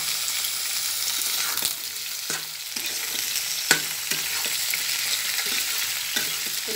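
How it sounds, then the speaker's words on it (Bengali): Chicken feet, skin and gizzards fry together in hot oil, a steady loud sizzle punctuated by repeated clacks and scrapes of a spatula stirring the pan, with no talking. "এখানে আমি মুরগির পা, চামড়া এবং পাকড়া একসাথে আমি নিয়েছি। এটা আমি ভাজা ভাজা করব, তেলে ভাজবো।"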